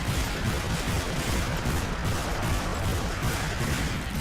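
Dense, continuous gunfire fills the scene as skeletons are shot down in the video game Darkwatch, a loud unbroken barrage of rapid shots with no voices over it.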